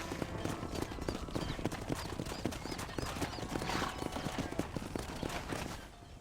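Rapid clip-clop of horse hooves trotting nearby in the video game Red Dead Redemption, irregular beats with faint voices in the background, fading slightly at the end.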